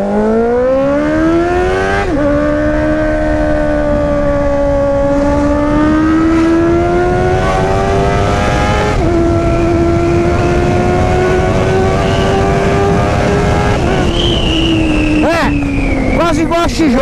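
Honda Hornet motorcycle fitted with an Atalla 2.5-inch stainless steel exhaust roars continuously while riding, engine pitch climbing and dropping through gear changes, loud and close for the whole stretch.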